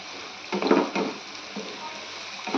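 Spice paste for pointed gourd bharta sautéing in a pan, a steady close sizzle with a few louder bursts of frying as the mixture is stirred.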